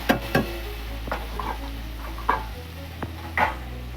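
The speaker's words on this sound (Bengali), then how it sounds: "তেলেতে শুকনো লঙ্কা একটা ফোড়ন দিয়ে দিচ্ছি এবার আলুটা দিয়ে দিচ্ছি" Potatoes frying in oil with a dried red chili, a low steady hiss beneath scattered sharp clicks and scrapes of stirring in the pan, close and moderately quiet.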